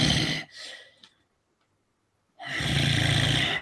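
A voice imitates a snarling, breathing creature in a Stone Age fantasy game session, giving a raspy, snore-like growl of about half a second. A faint breath follows, then a pause, then a louder, sustained rough snarl lasting over a second, close and alone.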